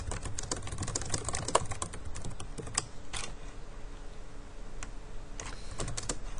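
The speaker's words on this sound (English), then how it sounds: "So I'll just type in a sample message." Fast, steady typing on a computer keyboard, entering a sample message into an online HTML editor; dense clusters of key clicks run continuously with brief pauses, close and clear, with no talking.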